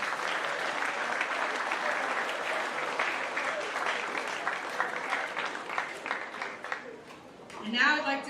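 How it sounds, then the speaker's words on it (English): At a school extracurricular awards assembly, an audience claps for student runners in a steady round of applause that thins toward the end, followed by a brief burst of voice or microphone noise. "If we could have one more round of applause for these excellent runners."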